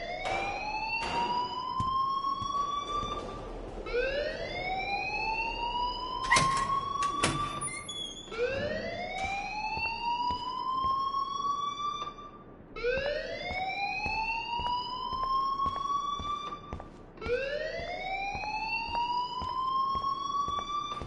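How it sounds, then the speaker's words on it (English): School fire alarm in the video game Life is Strange, a loud electronic siren sweeping upward again and again in a steady repeating cycle, with brief clicks and thumps between sweeps. "please turn off that alarm since that's your job"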